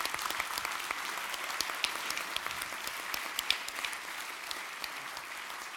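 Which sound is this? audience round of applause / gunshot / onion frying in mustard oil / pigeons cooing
audience round of applause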